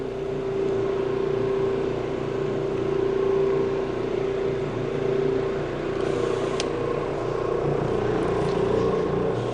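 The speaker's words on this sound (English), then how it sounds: "This machine works great on carpet tiles" An Orbot Vibe floor machine cleaning carpet tiles gives off a loud, constant motorized drone with a steady hum and broadband wash, running alone without voices.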